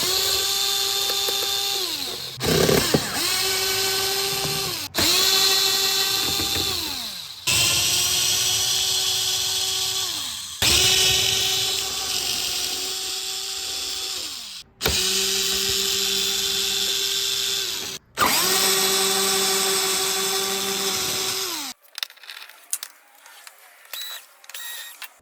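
A power drill backs out body panel screws on a BMW K1200LT motorcycle, giving repeated close whirring bursts that each rise, hold steady and drop off. Seven or so runs are separated by short clicks and pauses, followed by faint handling noises.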